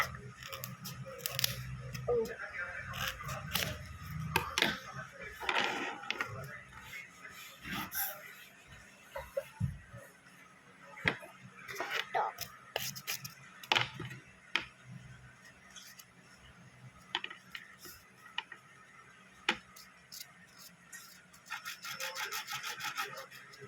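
Thermocol craft sheet being cut by hand, with soft scattered scraping and rubbing strokes and small taps at close range, faint and irregular, and no clear talking.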